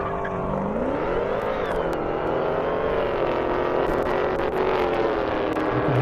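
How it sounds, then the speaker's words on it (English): A Dodge Hellcat makes a loud, steady engine roar with a high supercharger whine that rises and bends as it runs down a half-mile airport drag strip at the Indy airstrip, with no talking. "You can hear the Hellcat supercharger whine from all the way over here."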